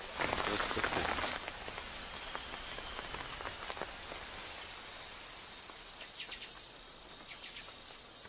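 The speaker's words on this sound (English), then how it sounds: "A light shower forces the men to rest for a day." Steady light rain patters on surfaces, a soft continuous hiss with scattered drops, while insects trill faintly in the background.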